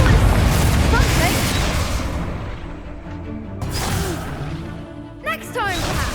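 A Confringo blasting spell in Hogwarts Legacy goes off with a loud, close whooshing boom. The roar fades into scattered crackles and a few quick sharp bursts near the end.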